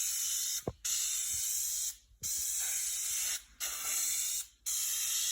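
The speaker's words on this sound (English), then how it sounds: "you can hit it with a thin coat of clear coat" Clear coat sprays onto a restored headlight in four bursts of close, bright hiss separated by short pauses, with no voices.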